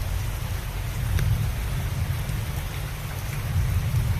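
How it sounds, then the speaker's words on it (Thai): Heavy rain pours steadily and loudly outdoors as a dense, unbroken rushing hiss with a low rumble underneath. "ตอนนี้ฝนก็ลงหนักมาอีกแล้วนะครับ"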